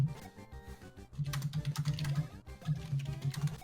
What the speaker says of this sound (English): they can at least listen to the typing